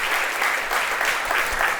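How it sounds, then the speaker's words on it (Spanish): A church congregation applauds during a Spanish-language worship service, dense continuous clapping for under two seconds, loud and close. "Dele un aplauso al Señor."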